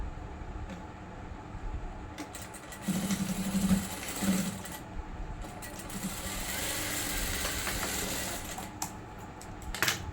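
A sewing machine stitching the hem of a kurti, steady low mechanical whir running quietly through most of the stretch with brief louder bursts, alongside faint background noise.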